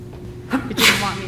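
A single close, loud sneeze during an elementary school opening report, a sharp burst followed by a short breathy tail, with a voice right after.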